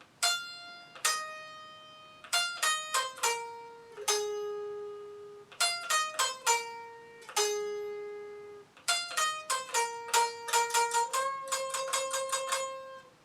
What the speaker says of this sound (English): we're going to be learning the guitar solo that you'll hear in the bridge